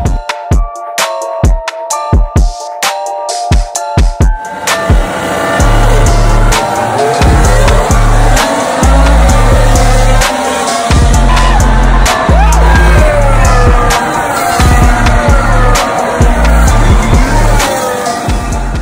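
Formula 1 race cars at a race start, with a loud high engine whine that builds into a dense roar of many cars passing close by, and a crowd faintly audible beneath.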